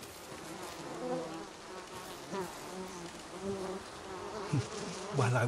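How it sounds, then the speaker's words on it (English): Honeybees buzz near hives in the samurai game Ghost of Tsushima, a steady, close droning swarm hum that carries on throughout with small swells. "Noble honeybees, he defends our hives and queens."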